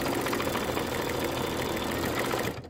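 A Kimberbell embroidery sewing machine stitches a bench buddy pillow, a steady fast mechanical whirr with rapid needle rhythm running close and continuous before stopping abruptly near the end.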